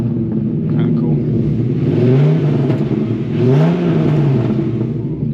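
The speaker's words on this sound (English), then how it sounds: "Let me give you some revs. Super loud. You can hear the thunder." A 2006 Dodge Ram SRT10 Viper truck with a six-speed manual sits idling with a loud deep rumble, then is blipped twice into swelling revs that fall back to idle, close and dominant.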